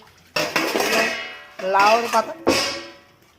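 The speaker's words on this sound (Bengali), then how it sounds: "রান্না করছে আবার মাজা ধোয়া করে নিচ্ছে" Dishes are washed and scrubbed by hand in a home kitchen. Three loud bursts of clattering pots, pans and cutlery sound close by, separated by short quiet gaps.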